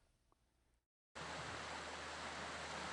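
Mountain valley stream at Daewonsa valley in Jirisan National Park in autumn, a loud, steady, close rush of flowing water that starts abruptly after a brief quiet gap and then runs on without talking.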